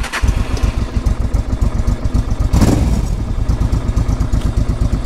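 A used motorbike engine running close and loud with a rapid regular thumping idle, a brief surge of noise partway through as it is restarted, then settles back into its steady beat.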